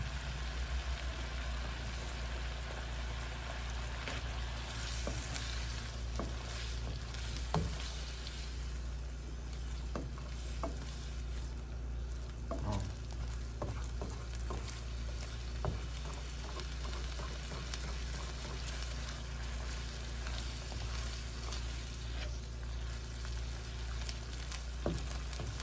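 Garlic and shrimp frying in a pan with lemon pepper and lime juice, a steady close sizzle running throughout with occasional spoon or spatula clicks, alone without talk.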